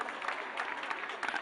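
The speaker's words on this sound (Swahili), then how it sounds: "makofi kwake." Crowd at the Mombasa International Show showground applauds a paratrooper's landing with a faint, distant patter of clapping that swells in brief bursts.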